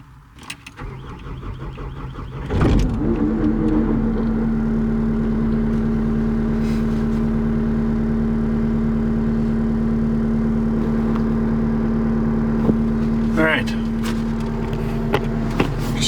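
A CAT 289D3 skid steer's engine cranks and catches after a short click, then settles into a loud, steady diesel idle with a constant hum, close by and uninterrupted.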